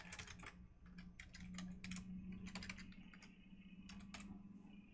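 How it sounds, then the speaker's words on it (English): Steady, close typing on a computer keyboard, with quick bursts of crisp key clicks in an irregular rhythm over a low constant hum, with no voices. "I'm gonna type some words out."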